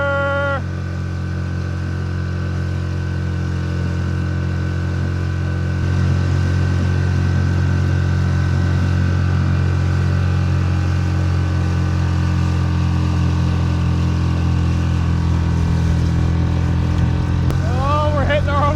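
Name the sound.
motorboat engine running on water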